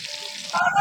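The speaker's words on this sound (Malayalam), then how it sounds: "നമ്മുടെ അയിലയെ അങ്ങോട്ട് ആ തിളച്ച എണ്ണയിലോട്ട് ചേർത്ത് വെച്ചു." Mackerel pieces hit hot oil partway through, a loud crackling sizzle swelling up over the fainter frying hiss that came before.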